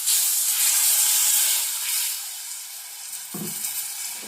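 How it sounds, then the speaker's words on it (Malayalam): Water from rinsing a mixer jar poured onto hot roasted coconut paste in a pan for a sardine curry, giving a bright steady sizzle and hiss that fades slightly, with a brief clatter near the end; no talking. "ഇനി ഇതിലേക്ക് നമുക്ക് വെള്ളം ചേർത്ത് കൊടുക്കാം."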